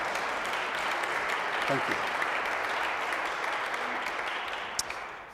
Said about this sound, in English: you can already tell from the warmth of the applause